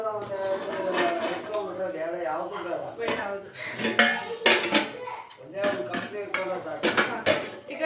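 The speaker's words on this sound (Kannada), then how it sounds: "ಕುಕ್ಕರ್ ಮುಚ್ಚಳ ಮುಚ್ಚತಾ ಇದ್ದೀನಿ" A pressure cooker lid being fitted and closed while cooking green tomato bath, giving repeated metallic clanks and clinks of the lid against the pot, fairly close, with a voice talking over and between the knocks.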